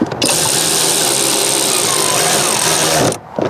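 A power driver tightens screws while a subwoofer is installed, whirring loudly and steadily for about three seconds before cutting off abruptly.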